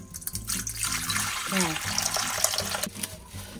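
Water pours into a bowl for Borodinsky-style bread dough, a close continuous splashing stream lasting a few seconds, with someone speaking briefly over it.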